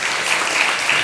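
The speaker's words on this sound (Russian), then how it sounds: "Аплодисменты." An audience breaks into applause, a brief, dense, steady clapping that sounds like a full crowd, fairly loud and continuous, with no voices over it.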